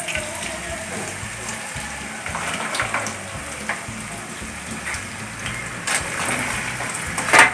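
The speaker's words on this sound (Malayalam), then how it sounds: "ഓയിൽ ചൂടായിട്ട് അതിലേക്ക് ചക്കക്കൂരിട്ട് കൊടുക്കാം" Jackfruit seeds drop into hot oil and fry with a continuous, bubbling sizzle and scattered pops, moderately loud and close.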